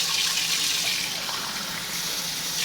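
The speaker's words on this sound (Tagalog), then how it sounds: "Lagyan natin ng sabaw para may palambot yung yan." Broth pours into a cooking pot of tomato-stewed pork with moringa, a steady close gush of liquid with no talking.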